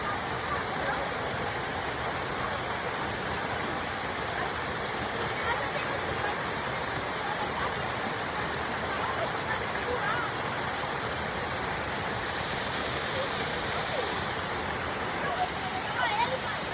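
A waterfall on a small farm pours with a constant, dense rushing roar that stays even and fairly loud throughout, with no pauses or changes in intensity.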